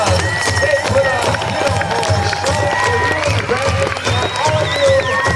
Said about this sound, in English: Let's give all the dancers and all the drummers a big, big, big round of applause.